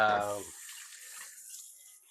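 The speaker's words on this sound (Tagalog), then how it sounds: "maghuhugas naman tayo ngayon ng plato" Water runs from a tap while plates are washed at a kitchen sink, a soft steady hiss after a brief voiced sound at the start.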